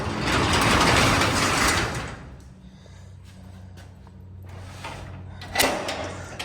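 Garage doors in a newly built two-car, two-story garage are pulled shut by hand: a loud rolling rumble for two seconds, then quieter mechanical hum and clatter ending in a sharp bang.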